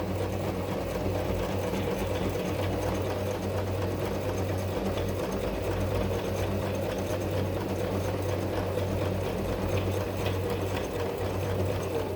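A sewing machine running steadily while an automatic buttonhole foot stitches a buttonhole, a continuous even motor hum with rapid needle chatter, close and moderately loud, with no talking.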